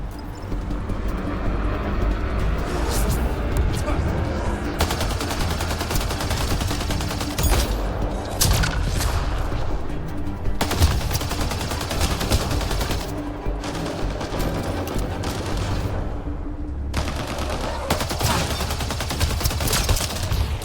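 Sustained gunfire in Mass Effect Andromeda, a fight against pirates, with dense rattling bursts and individual shots layered over a continuous roar, loud and close throughout, with brief pauses between volleys.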